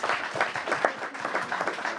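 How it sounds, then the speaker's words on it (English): Applause at a state senate joint oversight hearing, a short burst of scattered clapping from a modest group of people, distinct individual claps audible throughout. "Hey, give him a round of applause, my goodness."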